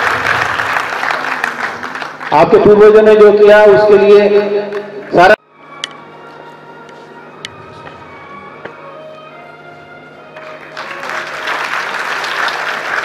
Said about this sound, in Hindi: दोनों तालियों से उनका स्वागत और अभिनंदन।